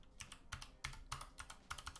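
Quick bursts of keyboard typing, clicky keystrokes in uneven clusters, close and fairly quiet, with no voices.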